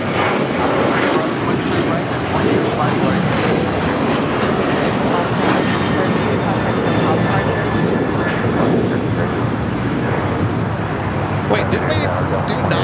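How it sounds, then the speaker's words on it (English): An Alaska Airlines Boeing 737-900ER taking off at LAX: a loud, steady jet-engine roar holds for the whole stretch, with people talking over it. "That was Alaska 1332 taking off to Liberia on the 737-900 ER"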